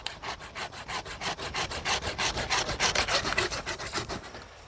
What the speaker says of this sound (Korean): 희생지를 좀 자르겠습니다